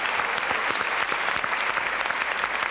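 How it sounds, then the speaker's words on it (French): A studio audience applauds on a French television show, dense, even clapping from many hands sustained throughout at steady strength. "Applaudissements pour Franck."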